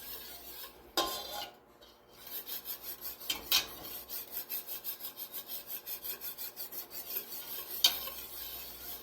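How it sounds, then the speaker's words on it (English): Broccoli cheddar soup being whisked in a pot, a steady rhythmic scraping and swishing that settles into fast even strokes, with a few sharper clinks of the whisk against the pot, close and fairly quiet with no voices. "Still a little clumpy, so I'm going to continue to whisk it."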